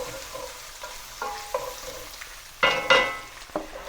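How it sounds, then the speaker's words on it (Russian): Onion and garlic frying in a pan, a soft steady sizzle broken by occasional stirring scrapes and clatters that grow louder toward the end. "я буду обжаривать параллельно овощи"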